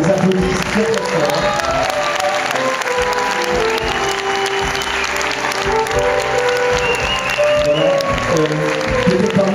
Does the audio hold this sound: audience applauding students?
yes